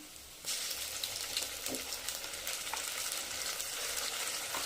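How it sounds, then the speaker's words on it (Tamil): Ginger garlic paste, added over fried shallots and curry leaves, sautés in a pan with a sudden jump to a dense, even hiss of frying that holds steady and close, with no talking. "நல்லா பச்சை வாசம் போகிற அளவுக்கு வதக்கணும்"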